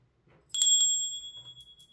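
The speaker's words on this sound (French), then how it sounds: "Cette charmante cloche" A small charming bell used during consultations rings once, clear and bright, its tone ringing out and slowly fading over about a second and a half.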